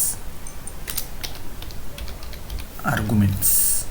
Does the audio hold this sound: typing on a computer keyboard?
yes